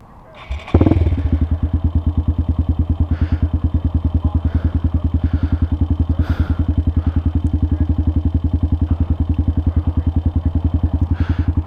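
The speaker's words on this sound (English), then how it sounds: "So it's more just like a street legal dirt bike" A street-legal 200cc dirt bike engine starts with a sharp catch, then runs at a steady, close, loud idle with an even rapid single-cylinder putter throughout, with faint clatter on top.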